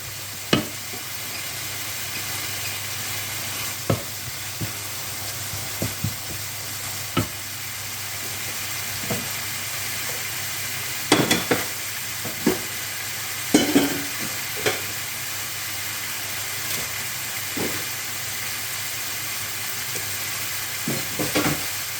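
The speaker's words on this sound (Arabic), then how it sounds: "الكريفيت ديالي حتى كيطيب مزيان وكيطلق داك الماء ديالو" Shrimp frying in a pan as they cook through and give off their water, a steady low sizzle with scattered sharp pops and crackles throughout, close and fairly quiet, with no talking.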